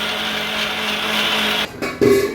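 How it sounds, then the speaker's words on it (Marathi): Tomatoes churn into a gravy paste in a mixer grinder for sukka mutton, a loud, continuous close-up whir that cuts out near the end, followed by a short clunk and rattle as the jar settles. "आता याला मिक्सरमध्ये फिरून घेऊ याची तर याचं काय आता मिक्सरमध्ये प्रॉपर फिरून घेऊ व्यवस्थित आणि याचा पेस्ट करू"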